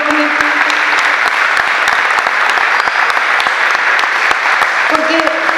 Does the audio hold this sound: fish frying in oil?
no